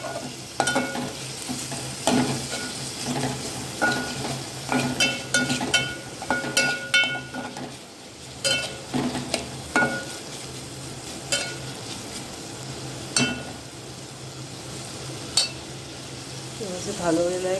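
Chopped tomato and onion stirred in a frying pan for a patvadi dish: steady sizzling frying with repeated spoon scrapes and clinks against the pan, close and moderately loud throughout.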